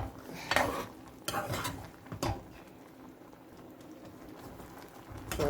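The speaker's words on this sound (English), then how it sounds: "So we're stirring." Utensil scrapes and knocks against a pot while stirring a browning Jamaican coconut drops mixture, a few sharp clinks between quieter scraping, close and moderately faint.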